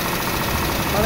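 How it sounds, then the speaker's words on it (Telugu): A bus engine in the Bus Driver Simulator game, played with a steering wheel, gives a steady, close, droning hum with a faint knocking vibration throughout. "గేర్ సౌండ్ కూడా వినబడుతుంది బ్రో"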